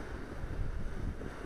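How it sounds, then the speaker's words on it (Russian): Gusty wind during a winter paraglider flight from Mount Beshtau buffets the microphone in a constant low roar, rough and rumbling, with no voices. "Уже ветер появился."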